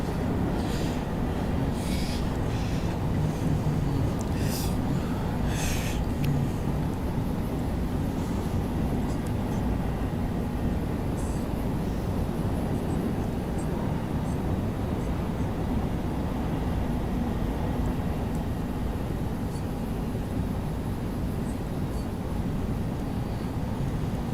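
Freight locomotives in the Open Rails train simulator game rumble on steadily under dynamic braking, giving a dense, continuous low roar with a whining drone and faint higher clanks and squeals above it.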